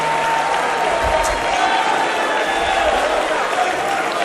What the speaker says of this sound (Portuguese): Aplauda Jesus um pouco mais forte, por favor.